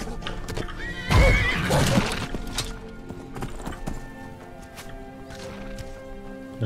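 A horse in the Skyrim video game whinnies loudly, with a sharp neigh near the start and hooves clip-clopping steadily throughout against a quiet background.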